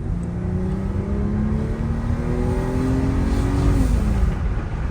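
A 1996 Toyota Mark II accelerates smoothly, its engine note climbing steadily in pitch for several seconds before easing off as it shifts, heard from inside the car with no talk.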